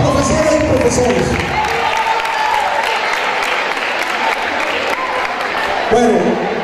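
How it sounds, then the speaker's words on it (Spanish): An audience at the Don Rómulo Gallegos high school in Maracay applauds the teachers, a loud, steady wash of clapping with cheering voices mixed in throughout, swelling briefly again near the end. "un gran aplauso para las profesoras y profesores."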